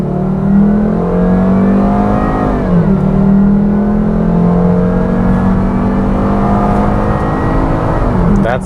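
A 2000s Volvo V70 wagon with a naturally aspirated 2.4-litre engine accelerating hard after kickdown, the engine droning loud and steady as it climbs through the revs, with a brief dip around a gear change.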